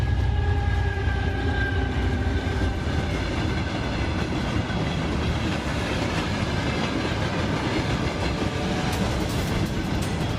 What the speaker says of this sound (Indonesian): Kereta datang cepat menuju arah kita.